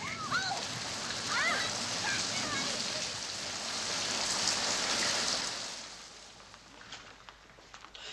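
A steady rain shower hisses evenly and fairly loud for several seconds, easing slightly near the end, with no voices over it.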